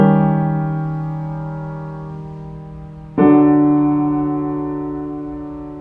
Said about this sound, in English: So the Italian augmented 6th resolution sounds like this.